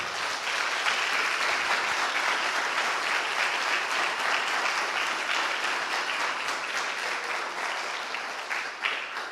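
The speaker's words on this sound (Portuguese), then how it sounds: "Então aplauda o seu Deus bem forte" A church congregation applauds their God, a loud, sustained roar of many hands clapping that runs steadily throughout and thins slightly toward the end.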